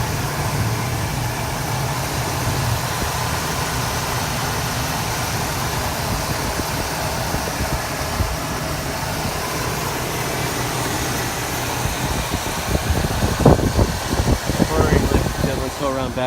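A 1984 Ford Mustang GT's 5-liter V8 engine idles with a low, steady hum close by, fairly quiet and even, as a person talks over it near the end.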